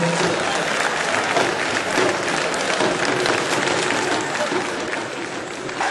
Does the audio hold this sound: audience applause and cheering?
yes